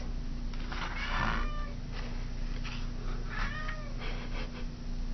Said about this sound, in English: Sorry, my cat's meowing.